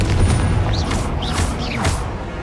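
Loud booming fire-spell blasts from Confringo in the Hogwarts Legacy game, with rumbling impacts and a few whooshing, rising spell streaks layered over a continuous dense roar.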